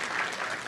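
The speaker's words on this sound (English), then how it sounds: "I think you deserve another round of applause" Audience applause fills a live campus event at Ohio State University, a steady, dense wash of many hands clapping close and fairly loud throughout the short moment.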